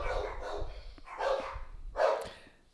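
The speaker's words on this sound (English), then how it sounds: "my dog started barking exactly at that moment" A dog barks three times at roughly one-second intervals, close and fairly loud, each bark a short rough burst with quiet gaps between.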